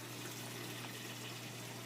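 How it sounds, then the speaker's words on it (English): Water in a breeder reef tank runs from the overflow down into a filter sock, a steady, even rushing and splashing wash with no breaks, continuous and moderately close, with no voices. "the water comes down from the overflow into the sock"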